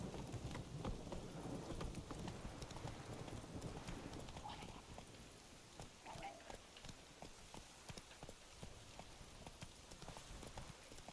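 Hooves clip-clop in a quick, steady rhythm as Roach the horse runs in Witcher 3, with a soft wash of rain and distant rumbling weather behind, fairly quiet overall.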